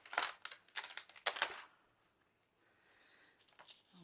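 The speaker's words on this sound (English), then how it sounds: "we're going to peel the layers" Painted watercolor paper layers peeled off a stencil: a quick run of close, crisp crinkling tears in the first second and a half, then fainter scattered rustles.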